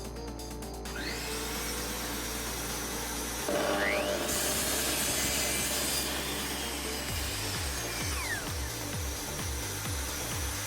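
A mitre saw cuts an angle through a wooden workpiece, a loud sustained whine of the blade and motor running throughout, followed by a rhythmic series of low thumps near the end.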